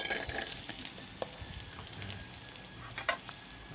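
Garlic fries in a pan with a soft, crackling sizzle, punctuated by small pops and light scrapes of stirring, fairly quiet and close.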